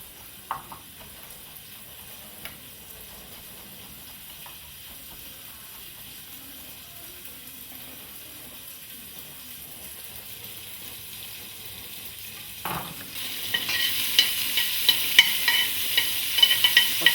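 A garlic clove starts frying in a pot, kicking up a faint sizzle partway through that builds into a steady, louder crackle near the end.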